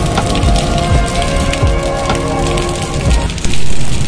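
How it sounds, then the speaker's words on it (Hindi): Steady rain pours down outside the General Post Office in Toba Tek Singh on a rainy morning, a loud continuous hiss of drops close by that runs through the whole clip. "बारिश हो रही है"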